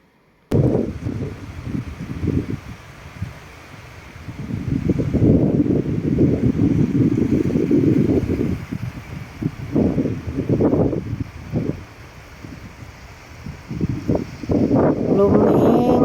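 Strong wind blows at the seaside in China, buffeting the microphone in rough, rumbling gusts that surge and ease, with the surf faintly audible beneath the roar.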